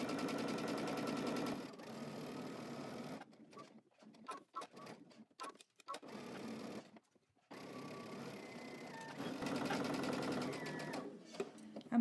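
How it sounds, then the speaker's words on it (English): A domestic sewing machine stitches a seam with a steady mechanical whir, close and continuous, then stops for a few seconds while scattered clicks and shuffles are heard, and finally starts running again. "we're gonna go to the sewing machine and we're going to start stitching across the top"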